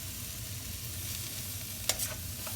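Shrimp being stirred into vegetable fried rice in a hot pan, a steady low sizzle running throughout with a brief scraping clatter of the utensil near the end, no voices.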